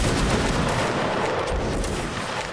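Massed musket volley fire from a line infantry formation in the Mount & Blade video game, a sustained dense crackle of many overlapping shots lasting the whole stretch at steady loudness.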